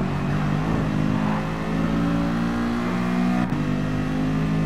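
A Lamborghini engine roars past in the Gran Turismo Sport racing game, a loud sustained mid-pitched drone with a brief gear-shift dip, no talk.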